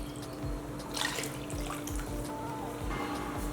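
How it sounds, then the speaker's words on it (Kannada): Water being poured into rasam made with cooked lentils, lemon and ginger, heard as a soft, steady trickle and splash close by under low background noise. "ನಿಮಗೆ ಎಷ್ಟು ತೆಳ್ಳಗೆ ಬೇಕೋ ಅಷ್ಟು ನೀರು ಸೇರಿಸ್ಕೊ."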